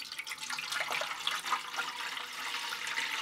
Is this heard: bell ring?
no